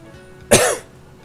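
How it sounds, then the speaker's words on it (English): A single short, sharp cough from a man, close to the mic and fairly loud, with a quiet room behind it. "I'm sorry for my little cough."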